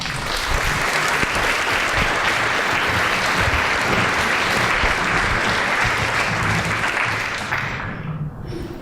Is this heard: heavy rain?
no